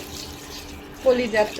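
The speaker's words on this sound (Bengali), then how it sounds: "আমি এখন পানিগুলো দিয়ে দিচ্ছি সিদ্ধ করতে" Hot water pours into a pot of beef lung pieces set to boil, a short splashing gush rising near the end after a brief spoken word.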